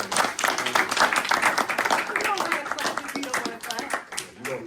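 Audience clapping for a guest speaker at a school session, uneven bursts of hand claps with voices talking and calling out over them.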